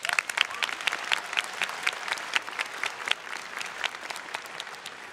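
Scattered, fairly soft applause from a graduation ceremony audience, with sharp individual claps standing out over a steady background of many hands.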